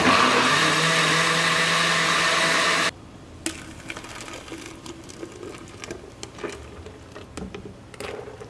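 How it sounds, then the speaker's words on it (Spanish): A kitchen blender whirs loudly and steadily as it blends gelatin ingredients with carrots and cheese, then cuts off abruptly after about three seconds, leaving quiet room sounds and faint clatter. "vamos a licuar los ingredientes."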